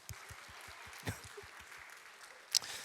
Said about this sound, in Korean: 우리 한번 박수하겠습니다.